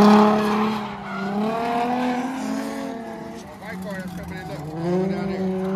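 A supercharged LSX-swapped Nissan 240 drifting, its engine droning and wavering with tires skidding, heard from a distance with people talking over it throughout.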